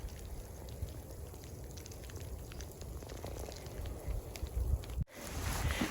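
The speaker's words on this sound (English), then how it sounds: "ice hitting my rain jacket?" A steady, faint patter of small ice pellets tapping on a rain jacket, with a rustle near the end.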